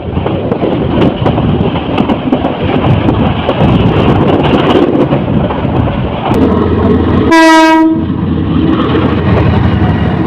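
A passenger commuter train departing Bhairab Bazar Junction rumbles loudly close by, wheels clattering over the rails, with a brief blast of its horn near the end.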